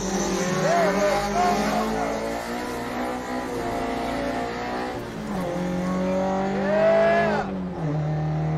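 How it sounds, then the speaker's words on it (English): Drifting car holding long sustained engine drone with rising and falling pitch sweeps and high tire squeals, loud and close, a brief lift near the end before the engine picks back up. "Drifting is the most addictive thing ever."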